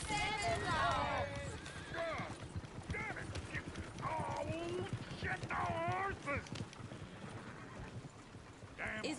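Horse hooves clip-clop in Red Dead Redemption 2, a steady patter of steps with horse snorts and whinnies, half buried under constant talk and game noise.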